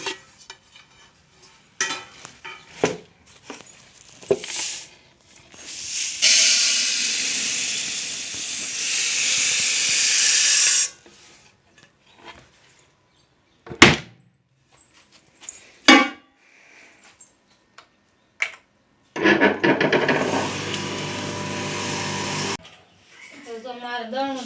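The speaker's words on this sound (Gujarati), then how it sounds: "હવે મારે દળવાનો છે બાજરો, તો આમાં નાખી દેવી।" A household flour mill grinds pearl millet (bajra) in a village kitchen with a loud, steady whirring roar in two long bursts. Between them come voices, clinks and handling noises.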